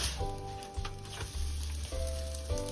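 A corned beef and cabbage pancake frying in a sprayed pan, a continuous close sizzle broken by a few soft knocks and scrapes as it is flipped, with no voices.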